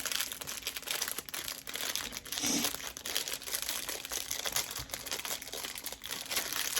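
A plastic package of airgun cleaning patches is torn and opened, giving continuous close crinkling and rustling with a brief louder crunch partway through.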